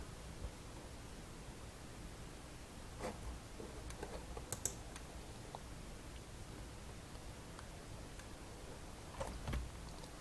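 C++ code is typed on a computer keyboard as faint scattered key clicks over a steady hiss of background noise, with a few slightly louder taps near the middle and end and no talk.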